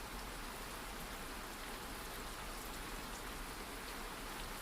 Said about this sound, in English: Outside, the storm was beginning to pass. The rain softened to a gentle patter